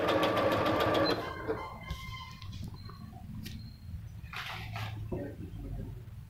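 An Usha Dream Maker 120 sewing machine stitches a blouse sleeve at a fast, continuous rattle for about a second, then slows to sparse, lighter clicks and mechanical taps over a quiet room background.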